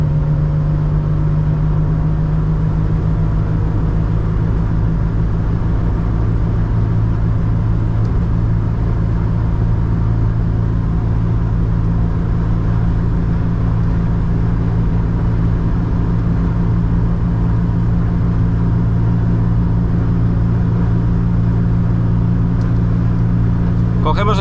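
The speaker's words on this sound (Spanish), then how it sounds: "Mira cómo acelera." A 1970s Mercedes W116 280SE sedan pulls hard on an open road, its engine drone and low rumble steady and loud throughout, with road and wind noise heard from inside the cabin.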